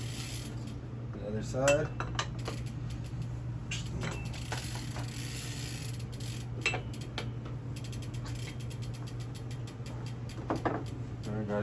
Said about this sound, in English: we're gonna take the pedal wrench and we're gonna torque it on there